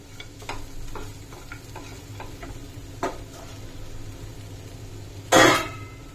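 Crispy corn stirred and fried in a pan, a steady low sizzle broken by a series of sharp spoon taps and scrapes, then a short loud hissing burst near the end.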